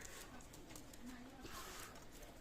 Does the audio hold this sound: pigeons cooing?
yes